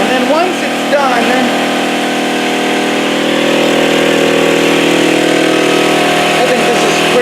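A cotton candy machine spins with its heat on, making a loud, steady motorized drone close by, with faint voices underneath.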